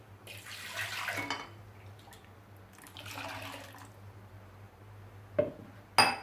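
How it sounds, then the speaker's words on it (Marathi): Water is poured into a pot in two short splashing bursts, close by and moderately loud, followed by a couple of sharp clinks of the pot near the end, with no talking. "थोडं पाणी घालते"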